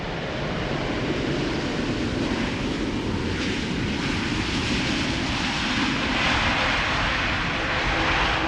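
An airplane passes at Amsterdam Schiphol Airport in high humidity, its engine roar a steady, broad rumble that holds loud and even across the whole stretch with no voices.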